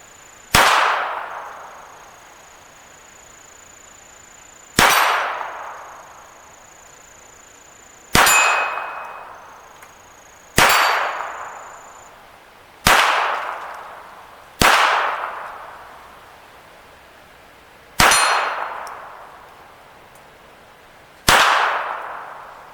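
Eight sharp gunshots from a Smith & Wesson 22A1 .22 pistol firing Federal ammunition, spaced a few seconds apart, each loud crack trailing into a short ringing decay, with no talking.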